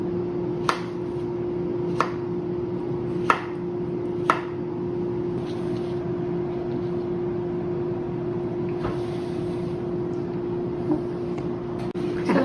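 A knife chops strawberries in a home kitchen: about six sharp, irregular taps spread out over a steady low mechanical hum, with no talking.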